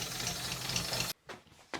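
An old English car's engine idles smoothly nearby, a steady low hum for about a second before it cuts out abruptly, followed by a few faint knocks.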